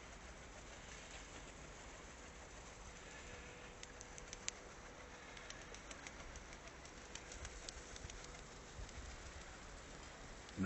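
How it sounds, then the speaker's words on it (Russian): Pigeons coo softly in a quiet outdoor setting in December, a faint, low murmur of repeated calls over a steady background hush, with no talking. "Голуби уже почти перелиняли."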